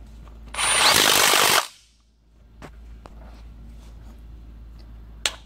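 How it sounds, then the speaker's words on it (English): A Volvo D13 injector is torqued down: a loud burst of tool noise lasting about a second, followed by a few sharp, scattered clicks in a quiet workshop. "And then now it's in, you can torque it down."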